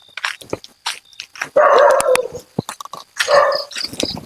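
A dog barks loudly and close by, several sharp barks in uneven bursts.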